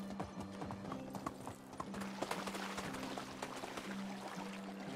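Donkey hooves clip-clop in a steady walking rhythm in the Medieval Dynasty video game, a close run of light hollow knocks over a faint ambient hum.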